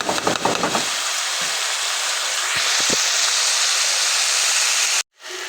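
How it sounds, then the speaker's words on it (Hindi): Mixed turnip and fenugreek vegetables fry over a high flame with a steady, loud sizzle and hiss, broken by a few stirring scrapes, then a brief cut before the sizzle resumes. No one talks. "अब चूल्हा तेज़ करके भूनना है आपने इसको।"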